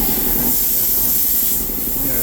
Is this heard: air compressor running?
yes